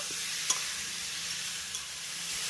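Sweet pumpkin stir-frying with tomato and ginger in a pan, a soft, steady sizzle with a couple of faint stirring clicks, quiet and close, no talk.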